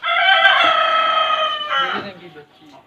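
Rooster crowing loudly and close by in the poultry section of a farm, one long sustained crow followed by softer clucking from chickens.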